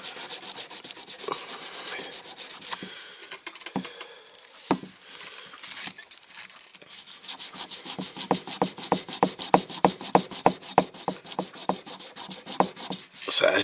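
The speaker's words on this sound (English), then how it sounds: "So it's just a case of keeping on sanding it." A die-cast Dinky Ford Transit toy van is sanded by hand with sandpaper, close and scratchy: uneven rubbing strokes at first, a brief lull, then a fast, steady back-and-forth rhythm of quick rasping strokes.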